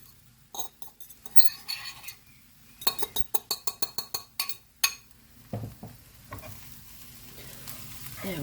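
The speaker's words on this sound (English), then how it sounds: "I'm going to put our couscous in there because I want to give it a really good mix around" Couscous is stirred around a pan with a utensil after the heat is turned off, a run of quick scraping clinks and taps against the metal, fairly close, then softer shuffling with a faint sizzle beneath.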